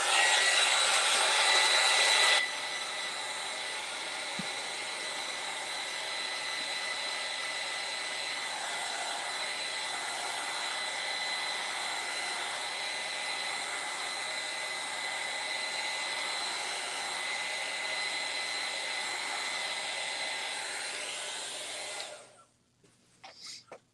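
Hair dryer blowing on wet paint on a summer DIY craft, a steady whirring hum held for about twenty seconds after a louder start, then switched off; no talking.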